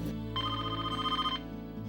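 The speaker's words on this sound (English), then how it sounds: "So I went over to the phone and dialed up Jonathan." A telephone rings through a handset after a number is dialed, a single clear electronic ring burst sounding over a steady low hum, close and fairly loud.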